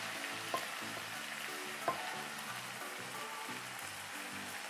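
Pasta being stirred into béchamel sauce in a pan, a close, quiet, continuous sizzle with soft wet stirring sounds and a couple of light knocks, under a steady background hum from the studio, with no talking.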